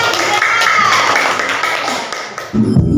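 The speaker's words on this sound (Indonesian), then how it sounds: "Oke, tepuk tangan." Students applauding in a classroom, a close burst of hand clapping that fades toward the end, followed by a brief voice.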